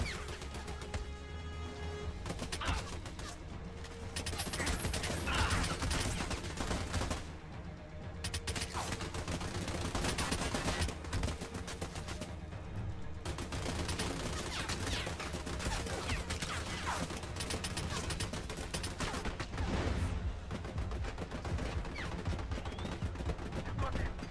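Gunfire and artillery in the video game Army of Two: dense bursts of automatic fire and booming blasts pile up continuously, loud and close, with brief lulls between volleys.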